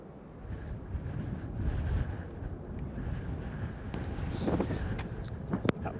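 Strong wind buffets the microphone at an outdoor plane spotting spot at Manchester Airport, a continuous loud rumbling roar with gusts swelling and easing throughout.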